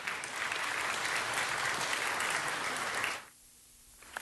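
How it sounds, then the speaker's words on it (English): Audience clapping at a city council meeting, a steady burst of applause from a crowd that stops abruptly near the end, leaving quiet room tone. "Give yourselves a big round of applause"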